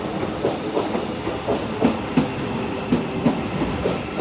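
A Class 397 train on a Manchester Airport to Edinburgh Waverley service rolls along with a steady rumble and regular clickety-clack of wheels over rail joints, fairly close and continuous.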